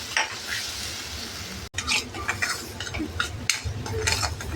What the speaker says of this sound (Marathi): ते छान परतून घ्यायचे, त्याचा कच्चेपणा निघून जाईपर्यंत